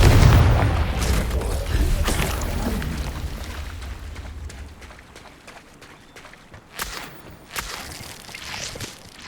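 A fiery Confringo blast spell from the Hogwarts Legacy game, with a loud booming impact at the start that fades into rumbling debris, followed by scattered smaller thuds and footsteps.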